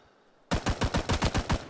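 A rapid burst of about nine gunshots from the Vietnam War shooter Rising Storm 2: Vietnam, loud and close, fired in an even, quick rhythm after a moment of quiet.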